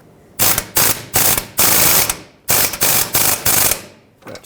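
A ratchet wrench tightens a catalytic converter mounting nut on a 2013-2020 Nissan Pathfinder, loud and close. It comes in rapid clicking bursts separated by short pauses as the handle swings back and forth, with no talking.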